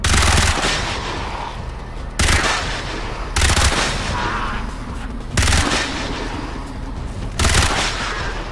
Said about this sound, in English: This is killing the target with